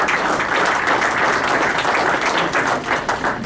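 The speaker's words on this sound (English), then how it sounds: "So a big round of applause, please." An audience at a club event with university head coaches applauds steadily, dense clapping from a room full of people, loud and sustained throughout.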